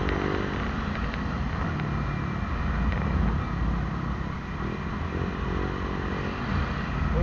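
A motorcycle ridden on the road with a passenger on the back gives a steady, unbroken drone of engine and wind rumble throughout, with no talking.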